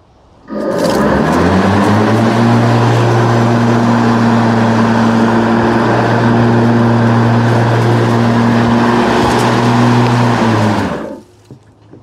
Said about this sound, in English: Now we'll turn the mowing deck on and see how fast it goes.